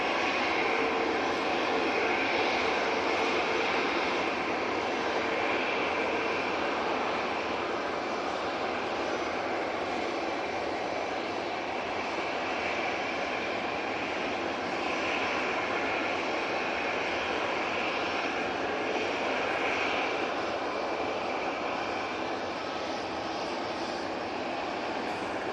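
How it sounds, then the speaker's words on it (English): A positioning flight from Liverpool, watched at Manchester Airport: a steady, broad airliner engine roar holds loud and close for the whole stretch with little change, a constant jet wash. "let's go and get this positioning flight from Liverpool"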